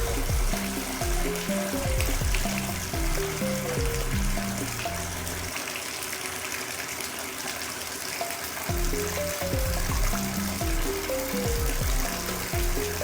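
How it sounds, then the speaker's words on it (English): Water running from a tub and shower control valve, a steady broadband rush that carries on alone for the whole stretch, with tonal background sounds layered underneath. "And now when you turn this water on, this thing will swing all the way over, and it should get pretty hot here."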